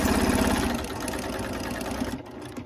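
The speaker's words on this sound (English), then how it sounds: "So now we've got it sewn from the top down." A sewing machine stitches quilt pieces, a steady fast mechanical whir with rhythmic needle ticking that runs loud and close before slowing and tapering off near the end.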